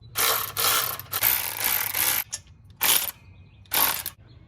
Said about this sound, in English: Time to finish it up by tightening the 5 bolts on top.